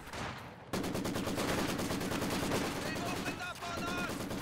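Maxim machine guns firing in Company of Heroes 2, a dense rapid rattle of shots that begins abruptly after a short lull and keeps going, loud and continuous, with a brief dip near the end.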